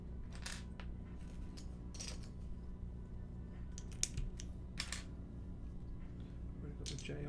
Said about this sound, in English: Just sorting through all of these keycaps here now.